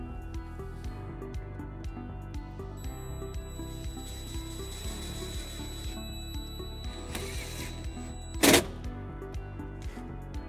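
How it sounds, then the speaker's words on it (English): A ratchet with a 1/4-inch socket drives a self-tapping grounding screw during a trailer wiring harness install on a 2019 Toyota RAV4, giving rapid, even, close pawl clicks throughout, with a brief louder scrape near the end. "we're gonna ground it using the provided self-tapping screw"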